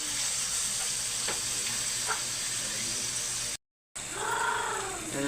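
Onion, ginger and tomato sizzle steadily in a hot pan, a continuous close crackling hiss with a few faint clinks of stirring, broken by a brief gap before the sizzle resumes.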